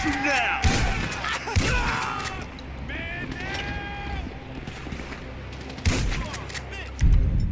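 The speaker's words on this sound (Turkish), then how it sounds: "Pompalı." Pump shotgun blasts in the video game GTA V come as a few heavy, separate booms spaced seconds apart, mixed with game effects while people talk over them.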